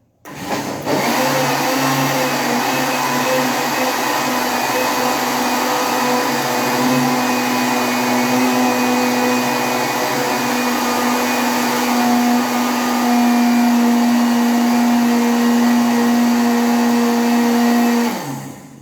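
A kitchen blender whirs continuously for about seventeen seconds while mixing passion fruit pudding batter, a loud steady motor drone that starts abruptly and cuts off at the end.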